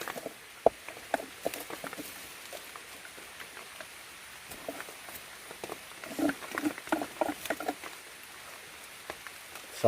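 Heavy rain falls in a forest, a faint steady patter with scattered louder drops and irregular splashes throughout.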